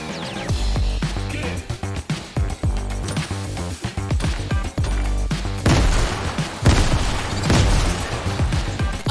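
A grenade play goes wrong in Fortnite, with a rapid string of sharp blasts and impacts followed by louder, denser explosive bursts in the second half.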